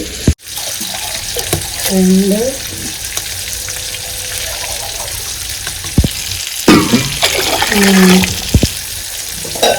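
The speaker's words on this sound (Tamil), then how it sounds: "இந்த 2 கப் தண்ணி ஊற்றினா கரெக்டாக இருக்கும் என்னோட ரைஸ்க்கு." Water pours steadily from a cup into a pot of rice being prepared for Karaikal-style kattu soru, close up with splashing and clinking, while a voice speaks intermittently over the stream.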